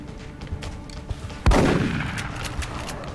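A single loud, close gunshot from the video game XCOM: Enemy Unknown, with a sharp crack followed by a long rumbling tail, over a quiet ambient background.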